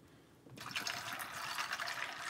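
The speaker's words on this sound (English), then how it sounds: "I'm gonna do a splash of pineapple juice." A splash of pineapple juice pours into a drink, a steady liquid stream that starts abruptly after a short quiet moment and runs close and fairly loud to the end.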